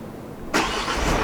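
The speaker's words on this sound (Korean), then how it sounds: "기존의 시동 기능도 기존에 있던 거지만 한번 보여드릴게요" A camper van engine started remotely from a phone cranks and catches abruptly, then settles into a steady, loud idle rumble close by, with no voices.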